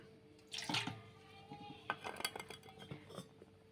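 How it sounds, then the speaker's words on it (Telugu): Soaked tamarind being washed in water in a kitchen vessel: splashing and sloshing with clinks of metal utensils, faint and close, coming in short bursts. "2 సార్లు కడిగి వాటర్ పోసుకుందాం."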